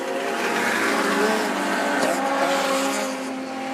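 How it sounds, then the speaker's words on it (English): Outlaw sedan race car blasting past at Macs Speedway during a night race, a loud engine roar with rising and falling whine and tire noise, easing slightly at the end. "The lead car goes past us now."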